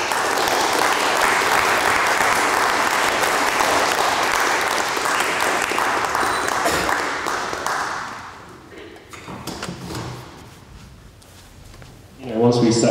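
A variety show audience at a maths-themed event breaks into loud, sustained applause after a singer with an electric guitar is introduced. The clapping fades out, and some brief talk and noise follow.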